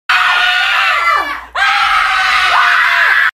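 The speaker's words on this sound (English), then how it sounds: "you're going to hear them scream like this" A man screaming loudly and continuously in pain, right up close, two long drawn-out shrieks that break and swoop down in pitch, separated by a brief gasp, filling the room.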